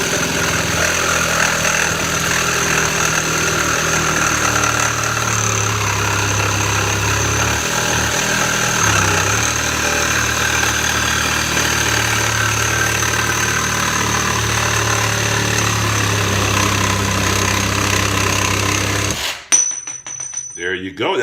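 A Kimo 20V cordless one-handed reciprocating saw cuts steadily through material held in a vise, with a loud, continuous buzzing motor drone that runs close for about nineteen seconds before stopping abruptly.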